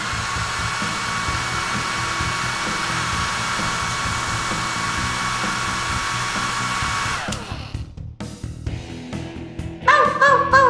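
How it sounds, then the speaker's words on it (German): A hand-held hair dryer blows on a Barbie doll's hair with a loud, steady whooshing roar for about seven seconds, then cuts off, leaving scattered clatter and brief high-pitched sounds. "Und wir föhnen dir auch noch die Haare."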